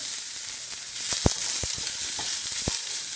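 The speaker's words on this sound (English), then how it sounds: "You can hear my pan was nice and hot, and it's sizzling right away." Chicken sizzles steadily in a hot pan, a close crackling hiss with a few sharp pops.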